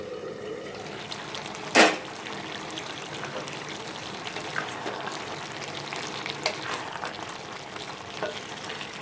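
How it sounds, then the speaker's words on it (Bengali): Bottle gourd cooks in its own released water in a pan for an egg curry, giving a steady close sizzle with stirring scrapes and one loud clatter early on. "লাউ থেকে যে জলটা বেরিয়েছে ওটাতেই লাউটা রান্না হয়ে যাচ্ছে।"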